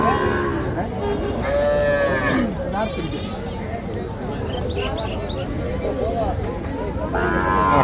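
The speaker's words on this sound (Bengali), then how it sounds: "এই পাশেও কিছু ছোট ছোট বাছুর আছে পালন উপযোগী" Calves mooing at a cattle market, with several drawn-out lowing calls from young desi, Sahiwal and Friesian calves, close by amid constant crowd chatter and people talking.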